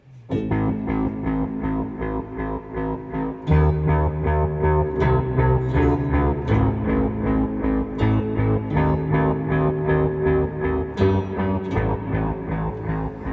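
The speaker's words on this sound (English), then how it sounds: "when you get the reverb in there, you really get that filled out sound" BOSS SY-1 guitar synthesizer played with heavy reverb, a dense sustained layered tone with shifting bass notes and sharp attacks recurring every few seconds, full and washed out, with no talk.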